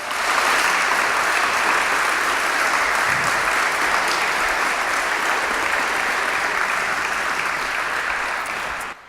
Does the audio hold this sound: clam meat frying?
no